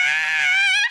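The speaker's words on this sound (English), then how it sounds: "sometimes you just gotta scream" One person lets out a single sustained high-pitched scream, close and loud, lasting nearly a second before cutting off.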